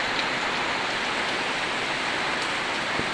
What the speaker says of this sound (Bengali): এই যে বৃষ্টি এদিকে অঝোরে নেমেছে